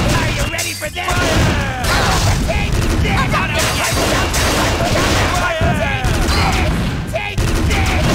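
Cannon fire in the PS2 game One Piece: Pirates' Carnival, a dense, continuous barrage of booms and blasts with crackling game effects filling the whole stretch at high volume.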